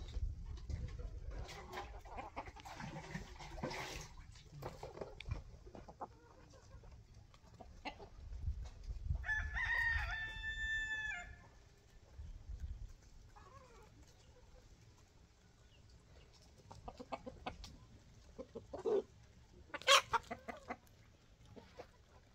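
A rooster crows once in the open at a nomadic rural camp, a clear drawn-out call at mid distance. Softer clucking and other bird sounds come before and after it, and scattered voices are heard.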